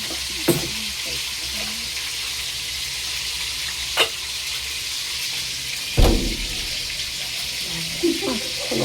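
Continuous crackling sizzle of tilapia frying in hot oil, with occasional louder pops and clatters of utensils.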